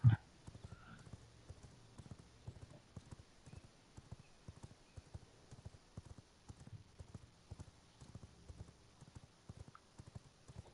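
A horse's hooves clip-clop steadily in the video game V Rising, a quiet, even rhythm of close hoof strikes running the whole time without talk.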